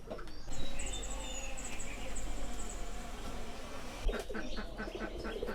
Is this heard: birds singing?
yes